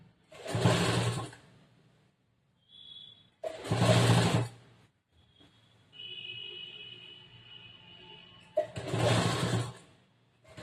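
Three short, loud bursts of a sewing machine stitching a chudidar top, separated by quieter pauses with soft mechanical hum.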